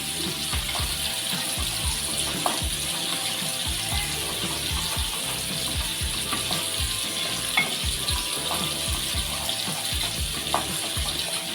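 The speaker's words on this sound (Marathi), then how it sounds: "हे मसाले आपण एक दोन मिनटं परतून घेऊया" Spices sautéing in oil for a Maharashtrian fish curry, a constant crackling sizzle with rapid bubbling pops and light stirring, close and steady, with no voices.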